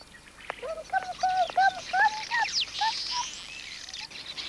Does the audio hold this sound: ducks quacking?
yes